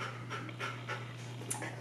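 A big dog panting steadily in short rhythmic breaths, close to the microphone, during a grooming session at home; no talking over it.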